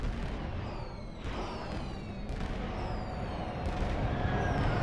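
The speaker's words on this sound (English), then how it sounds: "And a mysterious ship firing torpedoes at us." A ship firing torpedoes in Star Trek Online, with several sharp bursts and booms spaced a second or so apart over a constant rumbling background, each blast trailing off in a whoosh.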